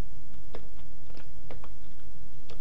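Sparse computer keyboard keystrokes, a handful of separate taps spaced irregularly over a steady hum, typed one-handed while building a web page.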